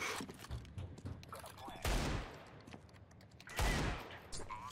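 Video game shooter gunfire: two loud bursts of rapid shots roughly two seconds apart, with quieter game noise and people talking between them.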